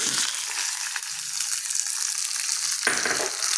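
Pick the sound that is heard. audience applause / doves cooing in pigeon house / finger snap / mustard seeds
mustard seeds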